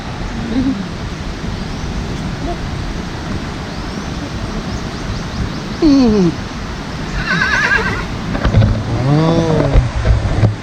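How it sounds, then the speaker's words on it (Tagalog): A horse near a waterfall whinnies loudly twice in the latter half, rising and falling neighs standing out over a steady wash of rushing water. "Takot kami sa kabayo guys oh."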